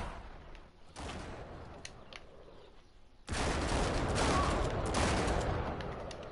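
Gunfire in Uncharted: Drake's Deception, a softer stretch of shots followed by a sudden loud, sustained volley of rapid overlapping blasts and bursts that continues to the end.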